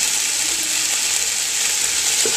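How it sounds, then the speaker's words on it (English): Meat for a spicy Cajun chicken pasta sizzles and fries steadily in a hot pan while being stirred, giving a close, continuous hiss with a faint scrape of the spoon. "Go ahead and stir all that meat up."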